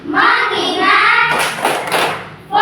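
Children's claps in the 'tepuk fokus' classroom clap game, a cluster of sharp broadband hits around the middle after sustained group chanting, with voices continuing on either side.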